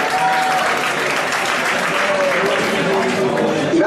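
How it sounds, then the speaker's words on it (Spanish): Audience applause at a television awards ceremony, loud dense clapping filling the room, with some voices mixed in. "Venga, un aplauso para ellos"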